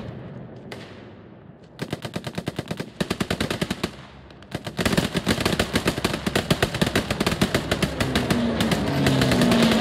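Heavy automatic gunfire in the WWII shooter Hell Let Loose, loud rapid machine-gun bursts that grow denser and nearly continuous, with brief pauses between volleys.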